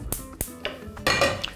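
A metal pot of boiled bone-in beef for solyanka is set down on the stove, giving a few close, sharp clanks and knocks in quick succession.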